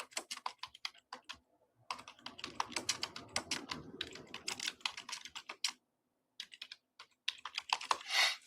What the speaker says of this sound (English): So I'll just type that in and I'll say apply.